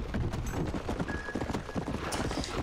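A war horse's hooves clip-clop in a steady rhythm in the Red Dead Redemption video game, close and fairly loud with no talk over them.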